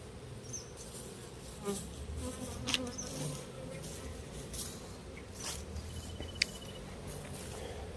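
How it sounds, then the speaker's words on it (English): A steady drone of many robber bees buzzing around a hive, with scattered faint ticks and taps and no voices. "This one's got some activity, but I think it's just robber bees."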